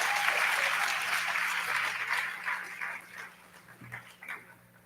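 Audience applause after an arangetram dance performance: a dense, steady clapping crowd that gradually thins and fades, with a faint low voice near the end.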